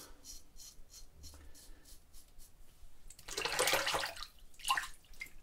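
A sharp Gillette razor blade scrapes through shaving lather in soft, quiet rasping strokes, then builds to a louder, denser burst of scraping near the end.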